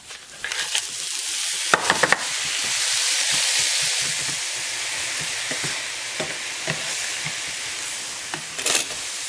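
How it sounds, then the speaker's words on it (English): A utensil scrapes browned fond from a hot pan while the contents sizzle steadily, with several sharp scraping strokes rising over the constant frying hiss. "Scrape them up just to release any of the fond"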